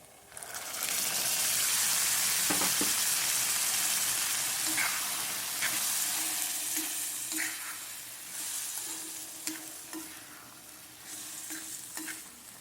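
Food frying in a pan gives off a steady, loud sizzle for the whole stretch, with a few soft stirring knocks rising above the hiss and no voices.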